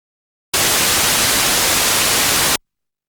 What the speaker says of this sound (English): This is a sample of white noise.